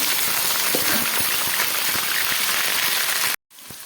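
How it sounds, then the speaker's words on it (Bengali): Cut potato pieces frying in hot oil in a wok, a steady loud crackling hiss with scattered pops, ending in a sudden cut. "তেলটা গরম হয়ে গেছে, আমি কেটে রাখা কিছুটা আলু একদম প্রথমে ভেজে নিচ্ছি।"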